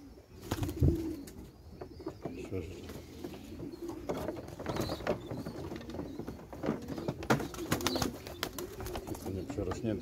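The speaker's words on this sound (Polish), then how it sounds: "Nie, to młode gołębie." Soft, low cooing and murmuring of young pigeons close by, mixed with wing flutters, scratching and clicks, with a voice speaking briefly in the background.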